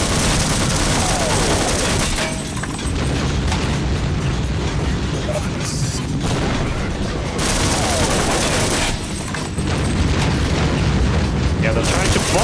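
Explosions and gunfire crash through a firefight in the Half-Life MMod video game, loud and near, with booming blasts and dense shooting that keep going for the whole stretch and pause only briefly.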